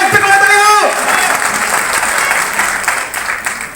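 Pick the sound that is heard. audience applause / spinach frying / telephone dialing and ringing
audience applause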